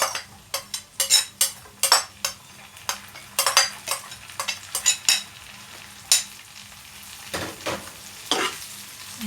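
Chicken liver, gizzard and kangkong stirred in a pan, bursts of scraping and clattering utensil strokes in an uneven rhythm over a quieter background sizzle.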